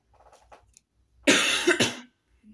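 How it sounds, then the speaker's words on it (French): A woman with a sick, hoarse voice coughs once hard, a harsh close burst followed by a second shorter cough, after faint quiet sounds. "J'arrête pas de tousser."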